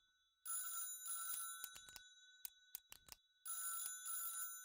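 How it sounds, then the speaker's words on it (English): An old-style telephone bell rings in bursts in the horror game Dead Plate, two rapid trilling rings, a pause with clicks, then another ring, bright and clear with no voices. "I hear the phone ringing."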